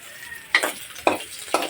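Squash sautéed in hot oil, sharp bursts of sizzling as pieces are stirred, three distinct crackling surges about half a second apart over a quieter background fizz.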